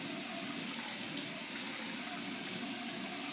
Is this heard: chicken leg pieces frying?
no